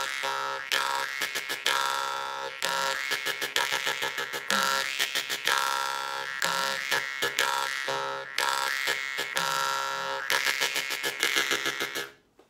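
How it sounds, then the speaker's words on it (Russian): Jaw harp played with a rapid machine-gun breathing technique in a dubstep style: buzzing, twangy tones chopped into fast stuttering pulses in repeated phrases, loud and close with no voice, cutting off at the end. "можно начать, например, с самой простой техники, но эффектной, пулеметное дыхание"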